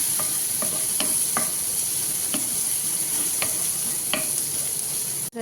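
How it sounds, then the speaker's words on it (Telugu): Ginger, garlic and cumin frying in melted butter in a pan: a constant loud sizzle with several sharp spoon scrapes and taps as the mixture is stirred, no talking. "అలాగే ఇది అల్లం వెల్లుల్లిపాయ జీలకర్ర ఒక స్పూను ఇది ఫ్రై చేసుకుందాం."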